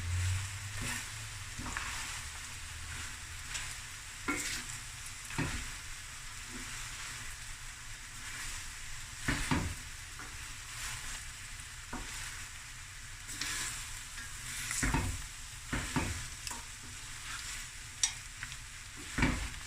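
Fried rice with mussels, coriander and chives stirred in a pan, a quiet steady sizzle under repeated scraping and clacking strokes of the utensil at irregular intervals, close and alone without speech.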